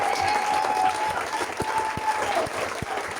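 A church congregation applauds and cheers in praise, with brisk, dense clapping that continues throughout, a sustained tone and a few sharp claps standing out within the crowd noise.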